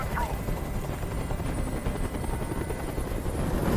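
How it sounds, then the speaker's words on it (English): Helicopter hovering overhead in the video game Detroit: Become Human, a loud, steady rotor drone filling the whole stretch with constant thumping texture. "I can't stand that noise anymore. Come on. Tell that helicopter to get out of here."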